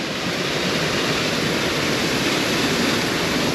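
A waterfall in Spain cascades into a clear pool, producing a loud, continuous, even roar of falling water that holds steady throughout with no voices.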